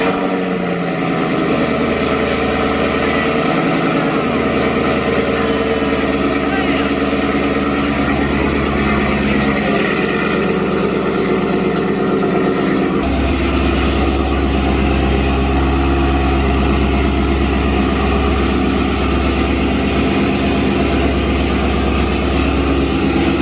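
A loud project car engine idles after a cold start, a deep steady rumble with a low throbbing pulse that drops and steadies partway through, close and continuous with no talking.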